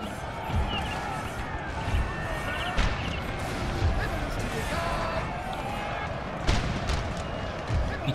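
Napoleonic troops and artillery keep firing in a Napoleon Total War battle, with repeated booming shots and rolling musket volleys over battlefield din. Someone talks throughout.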